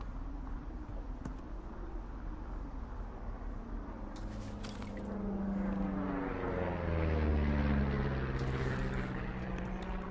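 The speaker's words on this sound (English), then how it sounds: "You see that plane?" A propeller airplane in Firewatch drones overhead, faint at first and then building to a loud, close engine roar with a falling pitch as it passes. No one speaks.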